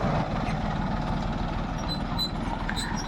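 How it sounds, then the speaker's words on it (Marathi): A small tractor engine runs steadily close by, a low throbbing rumble with a fast, even pulse that holds at constant loudness for the whole stretch, with no voices. "इकडनं ट्रॅक्टर आलाय आहे तसला बारका ट्रॅक्टर आहे"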